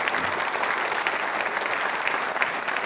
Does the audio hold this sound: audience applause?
yes